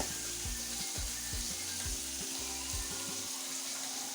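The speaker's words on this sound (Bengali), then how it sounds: "এখন আমি মাছগুলো ভেজে নেব।" Fish frying in hot oil for a Bengali machh paturi dish, a steady close sizzle with a dense crackling hiss and a low rhythmic thudding pulse underneath, no voices.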